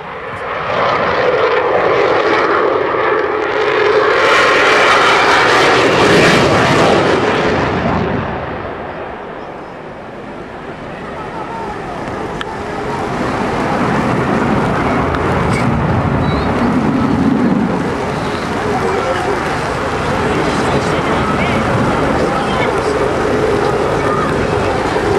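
A Eurofighter Typhoon jet makes a fast pass on full afterburner at an airshow display. A loud, broad roar builds and peaks, dips briefly, then returns as a rumbling, crackling afterburner roar that lingers as the jet moves away.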